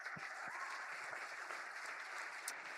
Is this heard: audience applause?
yes